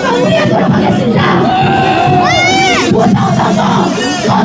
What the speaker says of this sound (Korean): 구호를 외치고 마무리하도록 하겠습니다.